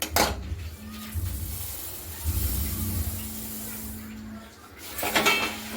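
Sesame seeds tipped into a pan for til chikki and stirred, giving a soft scraping and light hiss with a few spoon knocks against the metal, fairly close and moderate in level, with no talking.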